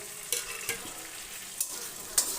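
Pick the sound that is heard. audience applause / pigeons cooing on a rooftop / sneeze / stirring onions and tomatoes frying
stirring onions and tomatoes frying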